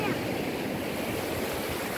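Sea waves washing over a pebble beach at Soli, Mersin, a steady broadband rush of surf and churning water, loud and continuous throughout with no clear breaks.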